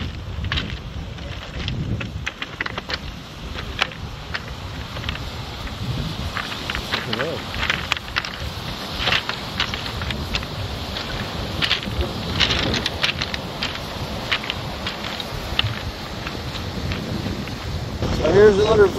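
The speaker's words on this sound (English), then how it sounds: "Quite windy here, you may not be able to hear me very well." Gusty wind buffets the microphone in uneven bursts while a person talks outdoors at the Arches Provincial Park, Newfoundland and Labrador.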